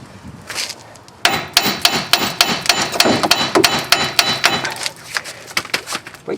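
Hammer blows knock apart a suspension control arm joint on a 2003 Chevrolet Impala, a rapid run of sharp, loud metallic strikes, close and irregular, continuing for several seconds.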